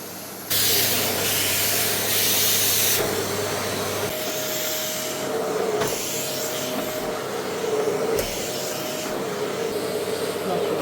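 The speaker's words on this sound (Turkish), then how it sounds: "Süpürgeyi çalıştırıyorum arkadaşlar" A Vestel H20 K 750 W bagless vacuum cleaner switches on and runs with a steady, loud whooshing roar and a low hum, its pitch shifting slightly as it works.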